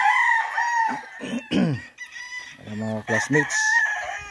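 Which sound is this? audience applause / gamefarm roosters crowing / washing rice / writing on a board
gamefarm roosters crowing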